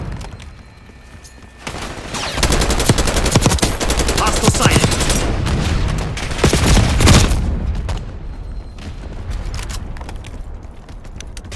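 AK-74 assault rifle fire in Call of Duty Black Ops 6, during a Team Deathmatch round on the Subsonic map: rapid automatic bursts, loud and close, rattling on for several seconds before easing into quieter shots and background game sounds.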